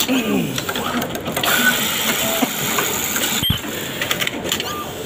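Wide-range elastic cutting machine running in a garment factory, a steady close mechanical whirring and rattling hum with a brief thump partway through, under someone talking.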